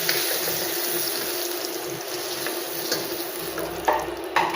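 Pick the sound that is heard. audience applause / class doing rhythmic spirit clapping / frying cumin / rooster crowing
frying cumin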